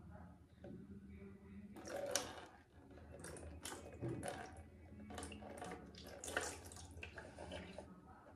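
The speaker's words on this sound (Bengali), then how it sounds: "নিয়ে চলে এসেছি জলের বোতল, এইবার আমরা ওয়াটারপ্রুফ টেস্টিং করব।" Water splashed from a bottle onto a face to test waterproof makeup, several quick close splashes and drips in short bursts over a quiet room.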